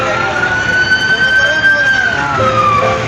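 A fire truck siren wails loudly nearby during a fire and rescue drill, a long rising-and-falling tone over traffic rumble, dropping in pitch toward the end.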